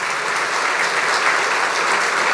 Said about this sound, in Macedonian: еден аплауз молам и за нив